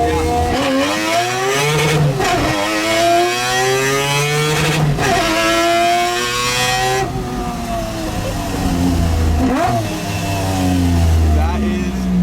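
A naturally aspirated 3-rotor 20B Mazda RX7 revs hard while driving, its engine screaming up through the rev range in repeated rising pulls with brief dips at the shifts, loud and close from inside the car.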